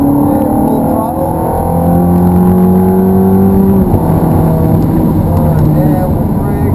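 A Ferrari 430 accelerates hard at full throttle on the Hallett track, its engine loud and close with a rising, steady roar that shifts once midway, as an instructor talks over it.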